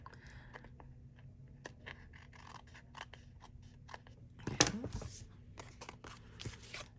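Scissors trimming excess card stock at a card-making class, a series of crisp close snips with one louder, longer cut in the middle, quiet background between cuts.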